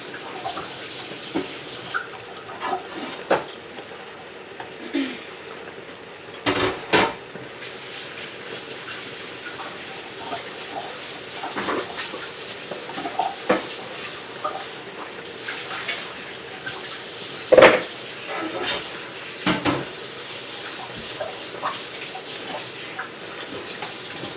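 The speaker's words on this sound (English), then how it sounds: "I'm just going to wash my board here" Water runs from a kitchen tap into a sink while a cutting board is washed, a steady moderate splashing stream with occasional knocks and clatters of the board against the basin.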